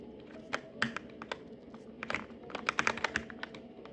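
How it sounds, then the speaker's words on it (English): Rapid, crisp clicks from the flat 24mm buttons with Cherry MX Black switches on a Fightbox B3 leverless arcade controller, pressed in quick irregular bursts, close and quiet with no talking. "when pressing the buttons, you have a nice clicky sound to it as well"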